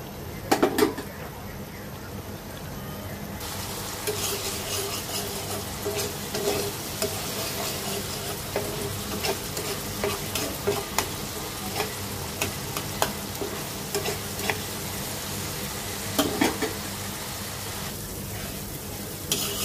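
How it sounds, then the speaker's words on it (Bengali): Spice paste (masala) being stir-fried in a pan for a koi fish bhuna: a steady close sizzle with repeated scraping stirs and occasional utensil clatter, continuing without speech. "ভালো করে মশলাটা কষাবো।"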